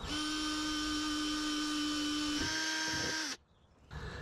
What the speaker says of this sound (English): I'm going to start off by drilling a half inch hole towards the top of my garbage can here